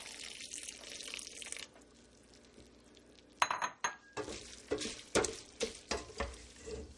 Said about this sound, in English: You stir it in so the pasta doesn't stick together.